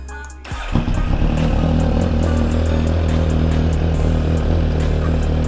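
A 2023 Suzuki GSX-R1000 engine bursts to life after a brief lull and holds a loud, close, sustained revving roar with a raw, buzzy edge until the end.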